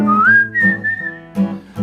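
A person whistles a bright, sliding melodic tune, clear and close, with short pauses between phrases and soft low tones underneath.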